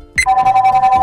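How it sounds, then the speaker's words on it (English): Star Trek Voyager LCARS console chirp: a short, bright electronic beep followed by a steady, pulsing tone, loud and close with no talk. "I like the Voyager sound effect."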